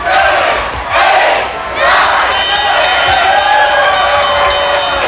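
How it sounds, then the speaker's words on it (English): Wrestling-match crowd counting out the referee, a loud chanting roar that rises in rhythmic surges, with evenly repeated shouted beats in the later half. "The crowd is counting him out."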